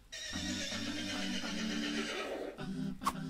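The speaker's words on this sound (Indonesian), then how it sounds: "Sebelum mobil dibuat, orang-orang dalam bepergian menggunakan kereta kuda." A horse neighs loudly in a long, wavering whinny that trails off, followed by a shorter snort-like call, alone and close.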